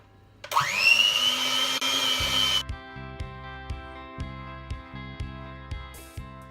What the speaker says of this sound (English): This is where my electric whisk comes in. I'm just going to mix all this together until it's all smooth.